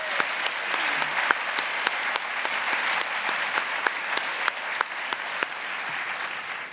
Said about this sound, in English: Let's please give these finalists and special guests a round of applause.